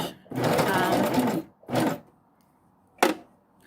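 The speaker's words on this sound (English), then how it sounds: "now I am hemming the hood using the special stitch." A sewing machine hems a fabric jacket hood with a special stitch, giving a long steady run of stitching, then a shorter burst, and a sharp click near the end.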